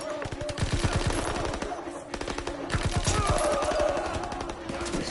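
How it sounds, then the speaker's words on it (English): Rapid automatic gunfire in a Call of Duty campaign mission, dense bursts of machine-gun shots rattling continuously, loud and close, mixed with battle noise and a voice talking over the shooting. "He's firing here."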